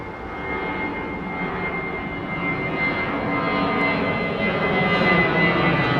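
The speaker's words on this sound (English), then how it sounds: "Etihad's 380 is right there at the turn-on point for runway 27 left as well." Etihad Airbus A380 jet at the runway 27 left turn-on point at London Heathrow, giving a steady, distant engine roar that swells slightly over six seconds, with no talk.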